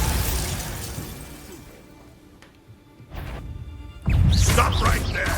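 Hogwarts Legacy spell effects: a Glacius freezing burst and a Bombarda explosive blast, heard as crackling shattering bursts with a loud crash near the end, close and under intermittent talk.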